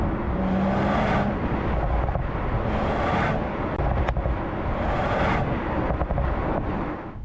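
A 2025 Mercedes-AMG CLE 53 Cabriolet is driven with the roof off, and its engine roars steadily with surging revs, wind rush and a few sharp pops, loud and continuous with no talking.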